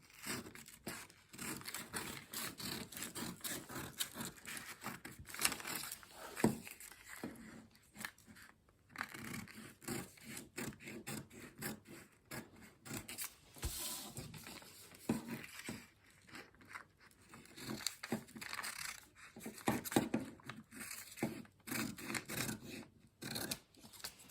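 Scissors snip through fabric along a drafted pattern for an off-shoulder bustier blouse, a close run of repeated crisp cuts with short pauses and faint paper-like rustling between strokes.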